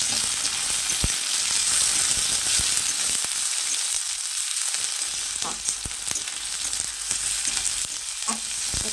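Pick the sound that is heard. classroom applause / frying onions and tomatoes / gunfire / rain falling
frying onions and tomatoes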